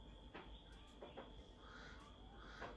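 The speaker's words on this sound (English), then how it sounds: "I'm going to share a little of the bird sounds with y'all this morning." Morning birdsong outdoors in Gambia, faint scattered calls and a few harsh caw-like cries over a quiet background hum, distant and soft.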